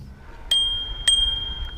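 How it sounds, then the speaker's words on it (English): A small bicycle bell on an e-bike rings twice, two bright, short dings about half a second apart, fairly close, with a faint trailing tone over a quiet background. "Even got the little bell."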